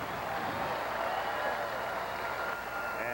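A basketball arena crowd in Sacramento roars steadily as Kings guard Mitch Richmond fouls out against the New York Knicks, a dense, continuous wash of voices and noise filling the whole stretch without letup.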